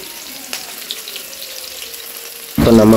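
Keeri fish vadas frying in hot oil, a quiet low bubbling at first that swells abruptly near the end into a loud, steady sizzle.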